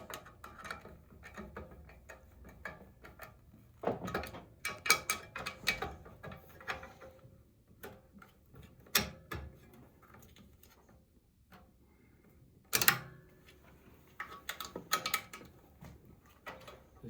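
Lock nuts and washers being tightened onto a Maxitrak 5-inch Wren model locomotive kit, heard as close, quiet metallic ratcheting clicks and small clinks in irregular bursts, with a sharper clank midway and no talk.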